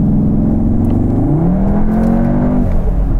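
Cupra Formentor VZ engine revving hard up to 6000 rpm in Cupra mode, a loud, steady rising drone heard from inside the cabin with no talking.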